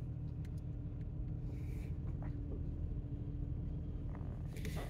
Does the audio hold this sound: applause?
no